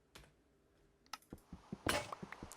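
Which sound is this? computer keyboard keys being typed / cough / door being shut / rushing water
computer keyboard keys being typed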